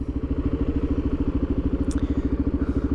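A 2022 Suzuki DRZ400 single-cylinder engine runs at a steady, rapid thump, loud and close, with an even pulsing rhythm and a brief metallic click partway through.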